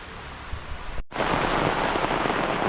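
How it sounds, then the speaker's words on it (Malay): Steady hiss of rain falling at a campsite, a brief quiet gap, then the rain returns heavier and louder and keeps a dense, even downpour to the end. "Ya, tiba-tiba hujan guys."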